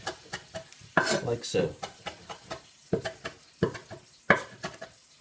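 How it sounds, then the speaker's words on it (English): Big butcher's knife chopping a bunch of parsley on a board, a run of sharp, close knocks in quick uneven bursts, with a person talking over some of the cuts. "get yourself a nice big butcher's knife, and cut that up"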